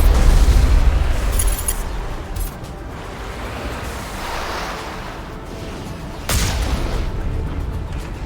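Deep artillery booms and explosions in the sci-fi game Mass Effect, a loud blast at the start and another near the end over a steady rumbling battlefield din.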